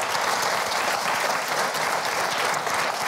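A studio audience at a German political talk show applauds, steady dense clapping from many people, loud and continuous with no break.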